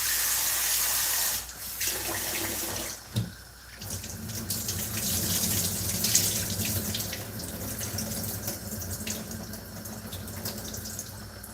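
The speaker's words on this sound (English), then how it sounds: "So I'm going to wash the rice." Tap water runs steadily into a sink while rice is washed in a pot during home cooking, a continuous close splashing flow with a brief dip in the middle.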